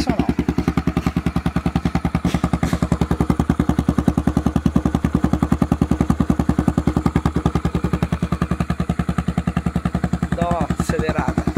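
A Honda CB300R motorcycle fitted with a megaphone exhaust idles close by with a loud, rapid, lumpy thump. Brief revs rise over the idle, and a person talks faintly in the background.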